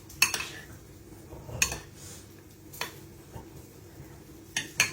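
A small spoon clinks against dishes while garlic olive oil is added to a bacon, tomato and garlic roasted salad, giving a few sharp, scattered metallic taps with quiet pauses between them.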